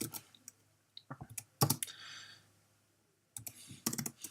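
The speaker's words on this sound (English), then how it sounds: "I'm just going to type the line first" Someone types a line of beginner code on a computer keyboard: short bursts of close, crisp key clicks separated by pauses, with a brief soft hiss in the middle and no talking.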